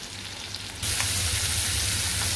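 Masala-coated bangda mackerel fries crisp in a pan, a soft crackle that suddenly swells into a loud, steady broadband sizzle.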